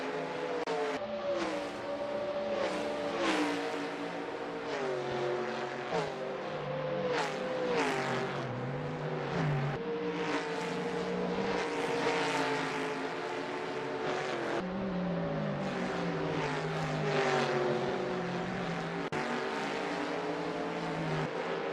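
Race cars in the Simspeed Cobra Series run flat out in a racing game, several engines screaming and shifting pitch at once, loud and continuous, with repeated rising revs as cars pass.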